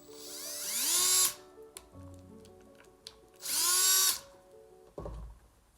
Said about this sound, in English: get my drill bit down in there